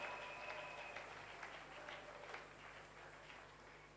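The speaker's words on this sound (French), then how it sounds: "On acclame alors très fort pour cette parole." A church congregation applauding loudly during a sermon, a steady dense clapping wash that holds at an even level throughout.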